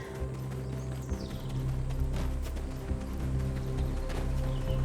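Steady clip-clopping horse hooves in Black Desert Online trot along over a low droning music bed, moderately loud and continuous throughout.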